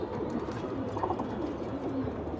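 Cheetah-patterned pigeons coo softly and continuously at close range, a low murmuring over steady background noise, with no talking.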